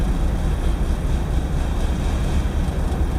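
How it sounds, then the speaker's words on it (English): Ferry ship engine running, heard from inside the vessel as a constant loud low rumble with steady broadband noise and no variation. "That's the sound of the ship."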